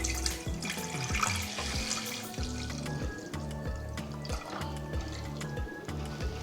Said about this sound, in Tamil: அரை லிட்டர் பால் ஃபுல்லாக ஊற்றிங்க.